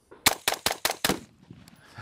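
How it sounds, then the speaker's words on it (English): A five-shot string of rifle fire at a range: five sharp, loud cracks in quick, even succession, followed by a faint trailing echo. "I'm gonna shoot a 5-shot string."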